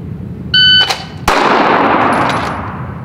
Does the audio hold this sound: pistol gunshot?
yes